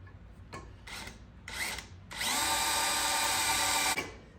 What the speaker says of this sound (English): I'm just going to make a mark on it with the tip of my drill bit so I can take it off and drill it